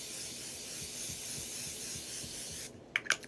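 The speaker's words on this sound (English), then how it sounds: "I've been using the Life Proof setting spray." Life Proof makeup setting spray mists out in a couple of short, sharp hissing bursts near the end, following a steady background hiss.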